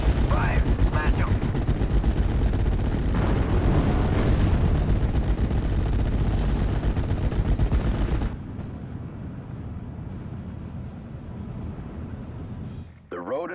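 Dense battlefield gunfire and artillery booms from the WWII strategy game Steel Division Normandy 44 roll on loudly, then drop to a quieter, sparser rumble with a voice calling out.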